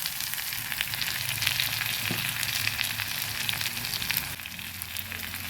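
Chicken curry masala sizzling and frying steadily in a pan as Kashmiri red chili powder goes in, a continuous close crackle with a slight drop in intensity near the end.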